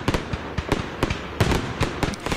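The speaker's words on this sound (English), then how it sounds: "The loud firework explosions can be scary for many animals, causing them to run away." Fourth of July fireworks burst in rapid, irregular succession, a dense run of loud cracks and bangs with some doubled pops, sharp and fairly close.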